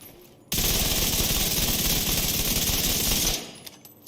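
Rapid sustained automatic fire from the Chameleon gun in The Division 2, a loud, close burst lasting about three seconds before cutting off, with a brief decaying tail afterward.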